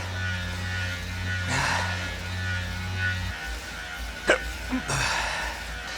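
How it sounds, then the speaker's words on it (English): Hiccups from a rider grinding up a hard climb on Zwift indoor cycling, a couple of sharp, brief hiccups near the end over a steady electrical hum and breathing. "having hiccups while doing it"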